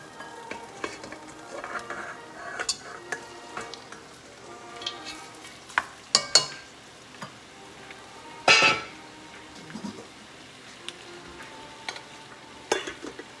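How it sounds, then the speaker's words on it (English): Pork spare ribs frying in a pan for a dish with black beans and bitter melon, a steady moderate sizzle broken by scattered clinks and scrapes of a utensil against the pan, with no talking. "And then we can add in now the pork spare ribs."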